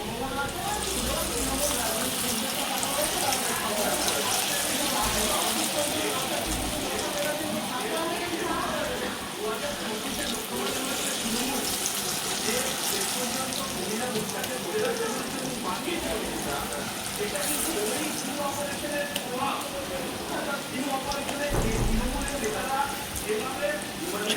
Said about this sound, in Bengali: ছোটো গ্যাসটাতে আস্তে আস্তে ভাজি